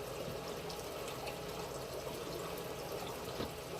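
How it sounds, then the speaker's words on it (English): Fuel stabilizer poured into the fuel of a 1988 Hurricane deck boat, a faint, steady close liquid pouring and trickling that continues for several seconds. "I'm gonna take that stabilizer and I'm gonna put about two ounces in it, in the fuel."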